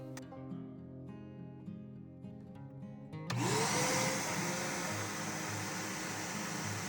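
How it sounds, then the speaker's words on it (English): A vacuum cleaner switches on with a sudden jump to a loud, steady broadband roar and keeps running while cleaning out the inside of an old pottery kiln in a ceramic studio. "So the first thing I'm going to do is to get the vacuum and vacuum out the inside"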